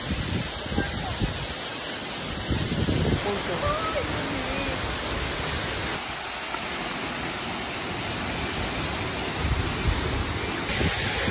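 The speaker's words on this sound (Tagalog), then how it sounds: "Sobrang lakas ng impact ng bagsak ng tubig." A powerful waterfall in the mountains of Bataraza, Palawan, roars in a dense, continuous wash of noise, close and loud, with a voice barely audible beneath it.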